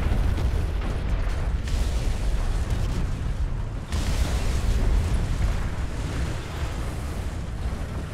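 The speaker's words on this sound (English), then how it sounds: "Oh, those are friendly bombs." Bombs exploding in War Thunder, an arcade tank battle in the Hürtgen Forest: sustained, dense rumbling blasts fill the whole stretch, loud and continuous with a brief drop midway, no talk over it.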